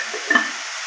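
Ridge gourd being stirred with salt in a pan: a brief soft scrape and faint sizzle, one short stirring sound near the middle of a quiet second, close by with no talk.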